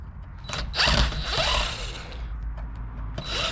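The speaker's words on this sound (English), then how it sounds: "I'm just going to use a screwdriver that's battery powered, make it go a lot quicker for me." Battery-powered screwdriver backing bolts out of a door knob and deadbolt set, close, loud whirring bursts with brief pauses between runs.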